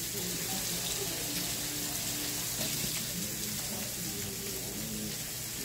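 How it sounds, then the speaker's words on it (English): Steady rush of tap water running over raw vegetables in a kitchen sink, a continuous, fairly loud hiss with faint handling clatter beneath it. "Rinse this off because you want to get that stuff off."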